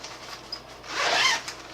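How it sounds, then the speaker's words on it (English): A film changing bag's zipper is drawn closed in one steady pull, a close rasping burst lasting about half a second with a small click before and after, over quiet room tone. "Zip it up."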